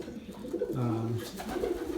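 A pigeon coos nearby during a breeding season in a loft, a soft, low throaty call rising and falling over about a second with faint background noise.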